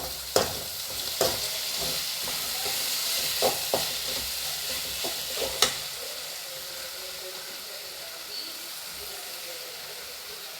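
Fish curry simmers in a pan with a steady hissing sizzle, broken by several sharp utensil clinks and stirring knocks in the first half before it settles into a constant low bubbling.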